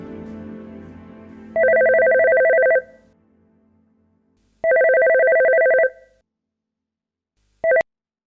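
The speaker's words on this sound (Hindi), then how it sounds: "सुबह बेटा सबीन को कॉल किया था, उसने फोन नहीं उठाया, शायद उसकी आंख लग गई" A telephone rings and goes unanswered: two long electronic ring bursts separated by silence, then a third cut short, loud and close in a quiet room.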